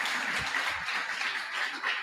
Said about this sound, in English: I think you can deserve another round of applause.